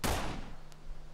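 A single sharp gunshot rings out in the video game DayZ, an Arma 2 mod: a loud burst up front that decays into a fading tail, with no other shots following.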